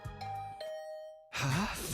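A two-note electronic ding-dong chime of a doorbell inside the video game The Hundred Line, clear and ringing with a short sustained tone, followed by a burst of louder game sound or voice.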